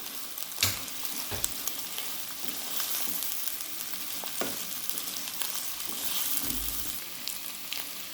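Chopped onion frying in a pan for khara masala keema, a steady broadband sizzle with occasional sharp crackles and a few stirring clatters, close and continuous without any talk.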